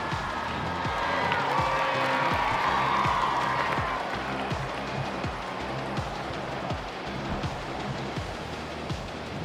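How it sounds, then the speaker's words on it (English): Crowd applause and cheering from the home fans in a Rugby League 26 match, a broad steady wash of clapping with some whistling and crowd noise under faint commentary in the first half. "Even some of the home fans are applauding that."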